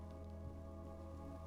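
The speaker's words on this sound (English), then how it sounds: "The rain hasn't stopped since you got here." Steady rain ambience from a visual novel video game, a dense continuous patter of rainfall with a low steady hum underneath, unbroken and even throughout with no voices.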